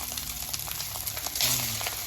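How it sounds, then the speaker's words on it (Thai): Steady sizzling and frying hiss of fried rice with pork and Chinese sausage stir-fried in a wok, with faint scraping and stirring noises throughout, fairly close and continuous. "ข้าวผัดเดี๋ยวจะไปดูวิธีการผัดนะคะ"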